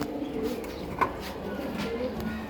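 Pigeons in a breeding setup coo softly and repeatedly, with one brief louder note partway through over a faint background hum.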